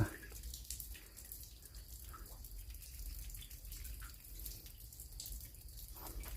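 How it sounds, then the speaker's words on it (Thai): Water from a waterfall spills out of a cave at a Buddhist rock-carving site in Kalasin, Thailand, giving a faint, continuous splashing rush close by with no clear breaks. "น้ำตกตกลงมา"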